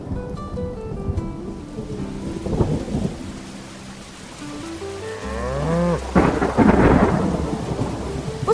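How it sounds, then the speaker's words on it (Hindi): Heavy monsoon rain pours down in a thunderstorm, with rolling thunder rumbling loudly around 3 seconds and again from about 5 seconds to the end, steady rain hiss underneath throughout. "एक बार बरसात का मौसम था और बारिश शुरू हो गई।"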